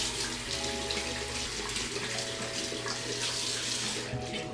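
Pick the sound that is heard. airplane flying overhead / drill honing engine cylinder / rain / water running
water running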